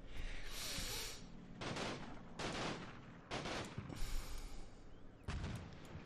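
Rifle grenade and small-arms gunfire in the World War II strategy game Combat Mission Fortress Italy, several sharp bursts and shots spread over six seconds amid steady battle noise, fairly quiet, with no speech.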